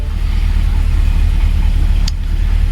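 Engine of a 1964 Ford Thunderbird running steadily as the car creeps forward, a loud, close, low rumbling drone with a brief squeak near the end.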